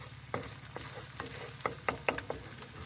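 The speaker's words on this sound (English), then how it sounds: "Just cook the egg, warm up the sausage." Egg and precooked sausage fry in a pan with a steady, close sizzle, broken by several sharp scrapes and taps of a utensil.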